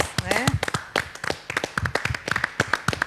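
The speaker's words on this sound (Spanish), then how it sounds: "Un aplauso para nuestros atletas." A few people applaud athletes at a radio or studio event, giving scattered, sparse hand claps close to the microphone with a voice mixed in.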